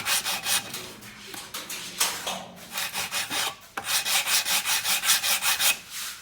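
Rough hand sanding of a wooden piece, heard as a series of rhythmic scraping strokes: slower, uneven passes at first, then a fast, steady run of about a dozen even rubs near the end.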